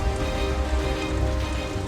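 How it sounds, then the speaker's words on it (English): Rain falls steadily over a New York skyscraper construction site, a constant dense hiss of drops striking hard surfaces, even and close with a low background hum. "Whilst the rain keeps coming"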